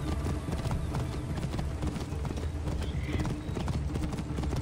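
Horse hooves clip-clop steadily at a trot in the Assassin's Creed Origins video game, a dense continuous patter with a whinny-like tone mixed in, while someone talks over it.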